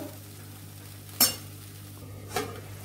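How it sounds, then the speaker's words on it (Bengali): A spatula stirs and scrapes a cashew, poppy seed, green chilli and ginger masala frying in oil, with two sharp metallic scrapes against the pan over a low, steady kitchen hum. No one speaks. "খুব ভালোভাবে এবার এটা আমি কষিয়ে নেব মশলা থেকে তেল ছাড়া পর্যন্ত"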